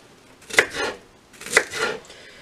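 A knife slices through onions on a cutting board for a crock pot roast beef, two distinct close cuts about a second apart, each a sharp crunch followed by a softer scrape.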